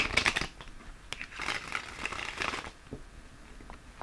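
A deck of tarot cards being shuffled by hand during an indoor reading, with soft papery riffles and crinkly card slaps in close, irregular bursts that fade to quieter handling.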